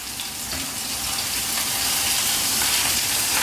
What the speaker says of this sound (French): On va pouvoir à présent les retourner.